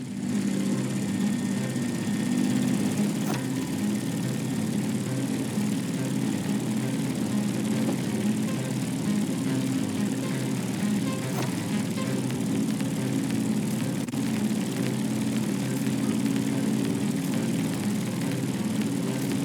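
An airplane engine drones steadily in The Crew Motorfest while climbing over Hawaii, a constant moderate hum with no breaks throughout.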